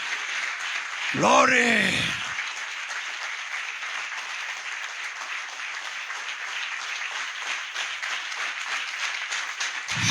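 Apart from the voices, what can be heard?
congregation applauding loudly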